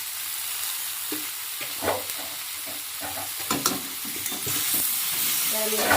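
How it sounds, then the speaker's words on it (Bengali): Vegetables for a vegetarian curry sauté in a pan with turmeric and salt, giving a bright, continuous sizzle broken by scraping strokes of a stirring spoon, close and fairly loud. "ভালো করে সবজিটাকে কষে নেব"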